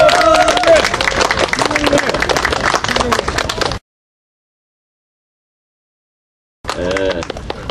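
Audience applause at a gathering in Yeouido Park, Seoul: dense clapping mixed with voices that stops abruptly into silence, then resumes briefly near the end.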